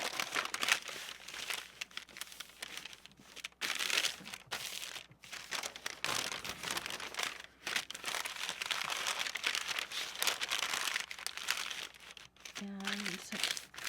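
Brown paper being crumpled and handled up close, loud crinkling and rustling bursts with brief pauses, a few tearing-like crunches, and a short voice near the end.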